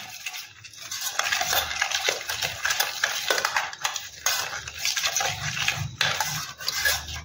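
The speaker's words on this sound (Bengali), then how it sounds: "তো এবার আমি দইটাকে একটু ভালো করে মিশিয়ে নিই" Beaten yogurt being mixed in a bowl, a continuous close clatter of a spoon scraping and tapping against the bowl in quick irregular strokes.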